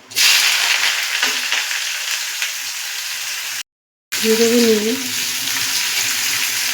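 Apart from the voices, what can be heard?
onions frying in oil with dried chilies and cumin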